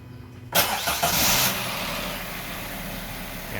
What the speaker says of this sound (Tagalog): Yan na, engine start.